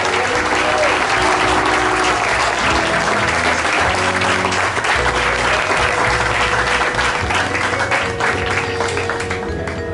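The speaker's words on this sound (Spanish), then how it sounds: "¡Fuerte el aplauso!" Loud, sustained applause from a crowd at a sports hall of fame induction ceremony for the class of 2021, dense clapping filling the whole stretch with music or tones underneath.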